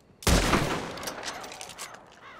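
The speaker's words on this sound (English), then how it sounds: "We're about to use a stinking exploding tip against this bear." A burst of rifle fire with explosive-tipped rounds aimed at a bear in Red Dead Redemption 2, one loud blast followed by rapid crackling reports and a long rumbling, echoing decay.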